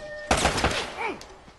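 Gunfire from Uncharted: Drake's Fortune, a loud burst of shots that sounds close, with a sharp onset and a decaying tail lasting about a second.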